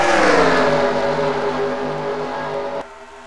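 Race cars on an oval track, among them a white Toyota, a loud engine roar passing close and falling in pitch as it moves away before cutting off sharply.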